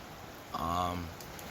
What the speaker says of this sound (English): This is a little risky because I'm in the middle of the rain right now